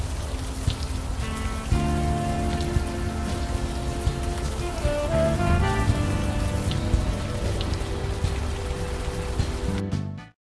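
Steady rain pours in the Brooklyn setting of the video game Unavowed, a continuous hiss of drops under a low musical drone and tonal notes, cutting off abruptly at the end.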